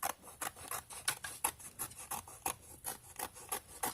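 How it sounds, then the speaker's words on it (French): Scissors snip repeatedly through paper for an altered-book scrapbook page, a quick, steady run of close, crisp cuts about every third of a second, with no voices. "Je découpe un peu."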